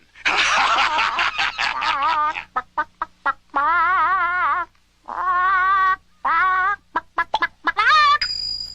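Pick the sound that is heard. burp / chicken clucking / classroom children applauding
chicken clucking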